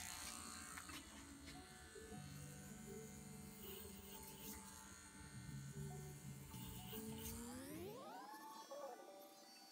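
Electric hair clippers cut hair clipper-over-comb with no guard, a steady close buzz holding throughout before the motor pitch rises sharply near the end.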